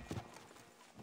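Horse hooves clip-clopping in the Red Dead Redemption 2 game, a few close, distinct hoof strikes early on, then quieter steps over a low background.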